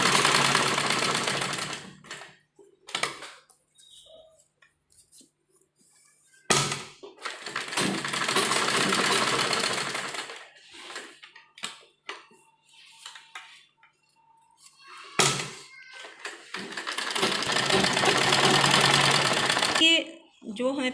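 An electric sewing machine stitching a wide running stitch on a pleated frock with umbrella sleeves, running in three long close bursts with quiet gaps and someone talking between them.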